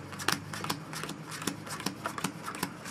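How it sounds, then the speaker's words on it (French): Playing cards dealt and counted out face up one at a time during a card trick, each card a crisp, near snap or flick in an uneven rhythm of about a dozen strokes. "et on va compter 11 cartes face visible."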